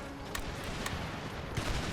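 Battle din from the video game Empire Total War, with distant cannon and musket gunfire crackling in scattered volleys over a dense, continuous rumble of combat.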